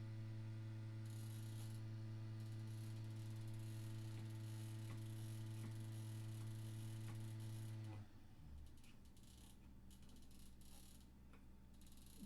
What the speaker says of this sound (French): C'est la PS5 qui se met à tourner toute seule.